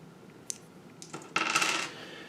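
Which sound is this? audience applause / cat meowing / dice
dice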